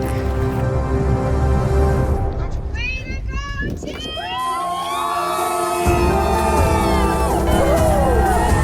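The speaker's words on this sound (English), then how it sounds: "The crowds were cheering" A crowd at the top of the Grand Canyon cheers a man in a wheelchair as he arrives, with scattered whoops and shouts over steady low wind rumble and nearby talk.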